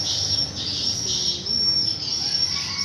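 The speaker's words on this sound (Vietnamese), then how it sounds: "Các bạn nghe tiếng chim hót không?" Swiftlets chirp and twitter steadily from a swiftlet house, a dense, continuous high-pitched chorus with no pauses, fairly close and fairly loud.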